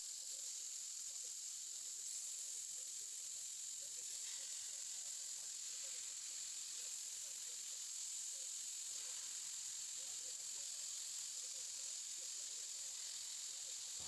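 Chicken pieces sizzle in hot oil on a nonstick tawa, giving a steady, bright frying hiss with faint crackles that runs unbroken throughout, with no voices.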